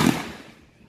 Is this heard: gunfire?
yes